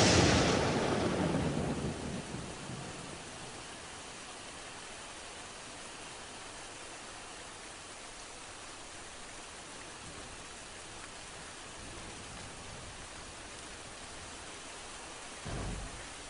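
Video game rainstorm: a loud crack and rumble of thunder at the start fades into steady, dense rain hiss that continues evenly, with a brief low thump near the end.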